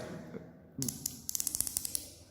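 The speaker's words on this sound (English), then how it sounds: "This portion is called ratchet, where I am rotating this screw gauge." A quick run of sharp, evenly spaced clicks from a screw gauge's ratchet as it is rotated, close and fairly faint, following a soft handling sound.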